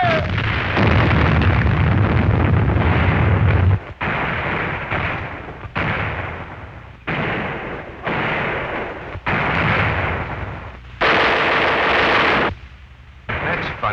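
Naval guns from a warship firing in a 1943 war film, heavy booming blasts and explosions repeating in loud bursts with brief gaps, dense and close.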